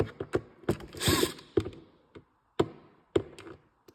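A wrench works screws loose on a GGB Trail can or mountain can, with sharp metallic clicks and taps in an uneven rhythm and a brief grinding ratchet-like rasp in between, close and fairly quiet.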